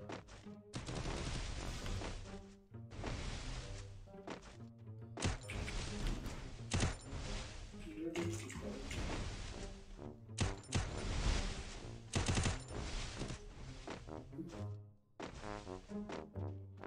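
Rapid bursts of gunfire from a shooter video game in a one-on-one match, dense automatic fire and single shots crowding together loudly with brief gaps between volleys.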